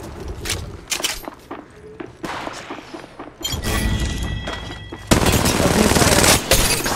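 Gunfire in Apex Legends Mobile, scattered single shots and footsteps giving way to loud sustained automatic bursts at close range, with brief game voice lines in between.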